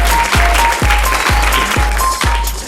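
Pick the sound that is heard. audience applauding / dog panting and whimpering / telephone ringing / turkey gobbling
audience applauding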